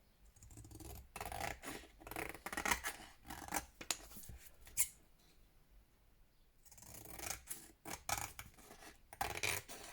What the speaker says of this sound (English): let's trim this all down